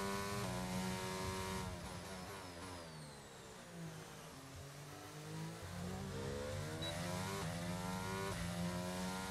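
Williams Formula 1 car engine in the F1 22 racing game, a high-pitched whine that drops through a braking downshift and then climbs hard again through the gears under acceleration.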